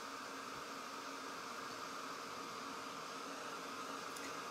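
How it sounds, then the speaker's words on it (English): Hair dryer blowing steadily on wet paint of a patriotic USA truck craft door hanger, held about five inches away; a constant close, loud broadband whoosh of air with no pauses. "How far away do you hold the dryer from the paint?"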